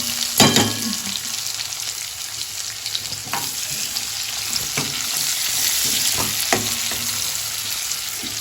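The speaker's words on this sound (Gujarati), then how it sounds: "હવે ઓઇલ ગરમ થઈ ગયું છે તો આપણે એમાં થોડુંક જીરું એડ કરી દઈશું. હવે ચોપ્ડ ઓનિયન એમાં એડ કરી દઈશું." Chopped onion drops into hot oil already holding cumin seeds, bursting into a loud sizzle that settles into a steady, close frying hiss with occasional stirring clatter from a spoon.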